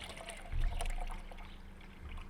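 Liquid trickles and splashes into a 5-gallon bucket of water, a short close pour of about a quart of chicken soup for compost tea, with a low sloshing swell partway through.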